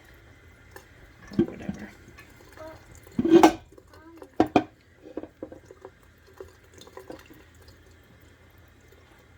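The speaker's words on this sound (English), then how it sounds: "I just have the water running" Water from a kitchen tap runs into a sink over a colander of split peas, a steady faint trickle broken by a few louder splashes and clatters, with brief talk in the background.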